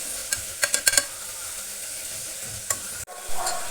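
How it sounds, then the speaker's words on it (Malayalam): A spoon stirs ginger-garlic paste frying with onions in a pan for a home-style beef curry: a steady close sizzle with a few sharp scraping clicks early on and another near the end, no talking. "ഇനി 1 ടേബിൾ സ്പൂൺ ഇഞ്ചി വെളുത്തുള്ളി പേസ്റ്റ് ചേർക്കുക. നന്നായി ഇളക്കുക."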